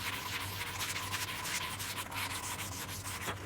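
120-grit sandpaper rubbed over the tip of a vintage bow in steady, rhythmic back-and-forth strokes, a close, scratchy rasp repeating evenly with no talk.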